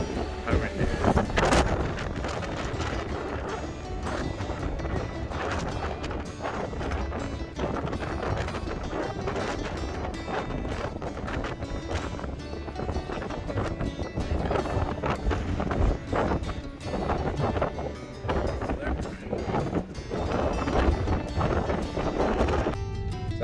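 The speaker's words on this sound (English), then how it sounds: "I'll show you how windy it is." Strong wind buffets the microphone on a ferry deck near Islay, a loud, gusty roar with rumbling bursts that goes on throughout.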